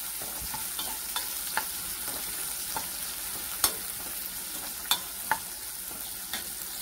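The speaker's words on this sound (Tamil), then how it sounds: "வெங்காயம் நல்லா வதங்கட்டும்." Onion sautéing in oil for a red capsicum chutney: an even, close sizzle with occasional soft clicks and scrapes from stirring.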